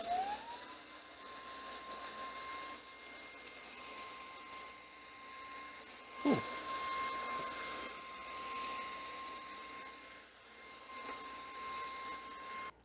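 An Aspiron cordless vacuum cleaner runs on its high setting, a steady high-pitched motor whine that spins up at the start and holds, with a brief thump midway and faint rattling of debris.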